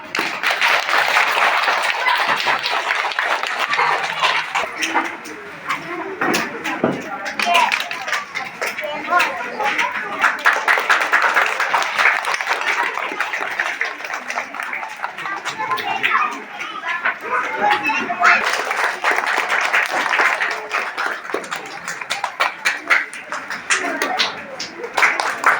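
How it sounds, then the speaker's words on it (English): Teacher's Day audience at an academy in Assam clapping in bursts, rippling and uneven, with chatter and a speaking voice over it for much of the time. "Clap, clap"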